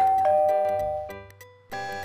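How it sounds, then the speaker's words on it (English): A bright electronic doorbell chime rings out as characters enter a shop in the 1993 Busytown video game, a clear sustained ding layered over cheerful game music that continues alone afterward. "I guess that's like a doorbell when they enter."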